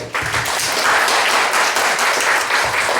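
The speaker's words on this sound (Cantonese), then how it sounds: "我哋俾掌聲啊！" Steady, dense applause from an audience welcoming a pastor to the front of a church gathering, continuous clapping filling the room for the full stretch without a break.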